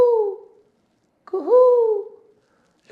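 A human voice imitates a cuckoo's two-note kuhu call, giving two clear hooting calls separated by a short silence.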